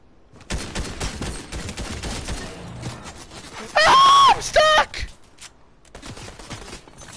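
Gunfire in the video game Fortnite, rapid bursts of shots close by, with a loud high-pitched scream-like sound in the middle and a player talking over the action.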